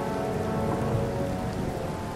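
Thunderstorm sound effect with a hard norther bringing heavy rain and hail: a dense, continuous downpour hiss with low rumbling underneath, steady and enveloping throughout, no voices.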